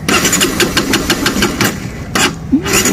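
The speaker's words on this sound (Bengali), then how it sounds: "বাইকটা কোনোভাবেই স্টার্ট নিচ্ছে" Motorbike engine cranking repeatedly without catching, its fuel supply cut by an anti-theft device; a steady rhythmic starter churn runs close and loud, pausing briefly near the end before cranking resumes.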